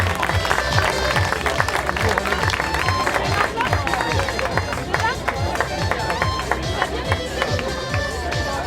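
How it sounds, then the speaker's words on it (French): A crowd at a triathlon prize ceremony applauds the men's relay winners with steady, sustained clapping that runs the whole time, mixed with general crowd noise and voices. "Les applaudissements pour le FC Saint-Paul en Chablais, vainqueur relais masculin."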